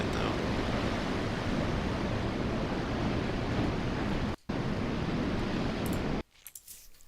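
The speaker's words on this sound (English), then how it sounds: "These waves, though, are pretty calm." Ocean waves during Typhoon Kong-rey in Taiwan give a loud, steady broadband wash of surf and wind. Two sharp breaks in the sound cut it off, and it ends in near silence.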